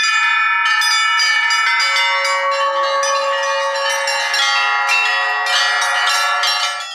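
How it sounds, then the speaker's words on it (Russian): Church bells ringing from the main bell tower in Urzhum, Russia, during a bell-ringing festival: a continuous peal, several bells struck in quick overlapping succession, bright and resonant, with no voices. "позвонить в настоящие колокола"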